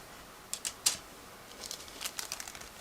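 Plastic bag holding a clear sprue from a 1/72 scale plastic model kit crinkles up close in short bursts, a few sharp crackles followed by a run of softer rustles.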